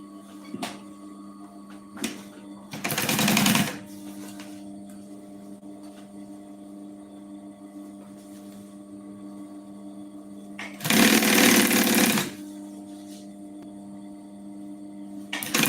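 A sewing machine stitches lining onto the reverse side of a zipper for a quilted puffer backpack, running in two short bursts of about a second each, with a quiet steady hum between them.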